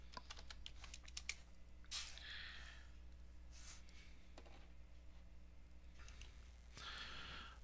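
Quick keystrokes on a computer keyboard typing a short command, a rapid cluster of light clicks at first followed by a few scattered taps, faint and close against a steady low hum.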